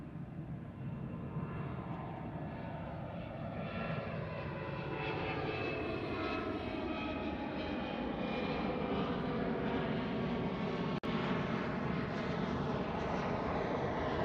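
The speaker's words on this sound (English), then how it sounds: "We have a Delta Heavy heading out to the reef runway 2." A Delta heavy jet airliner departs from the reef runway at Honolulu, its engines a steady, building roar heard from a distance with a sweeping, shifting whine over a low rumble.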